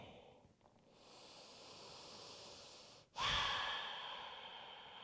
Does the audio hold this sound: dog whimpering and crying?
no